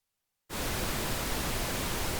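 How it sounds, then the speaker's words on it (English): Pink noise test signal from a Soundcraft Ui24R mixer snaps on abruptly after silence and holds as a steady, loud, full-band hiss. "So now we have our pink noise in the audio stream."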